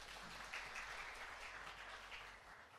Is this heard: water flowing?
no